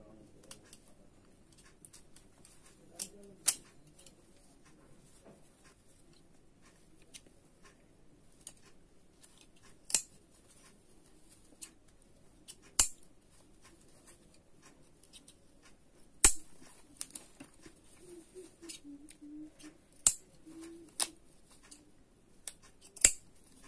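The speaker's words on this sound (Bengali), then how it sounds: "আমরা এভাবে হাতে সেলাইটা খুলে ফেলবো" Scissors snipping through hand-sewn stitches on a pair of trousers, a few sharp isolated clicks spaced several seconds apart over quiet fabric rustling, close and faint.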